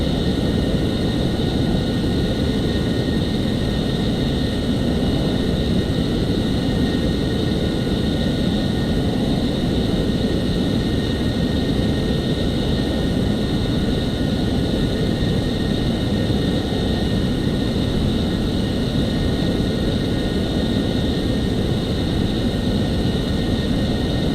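F-14 jet cruising with its wings swept out in Microsoft Flight Simulator X, a steady, loud, unbroken engine roar holding constant throughout with no talk.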